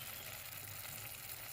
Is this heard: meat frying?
yes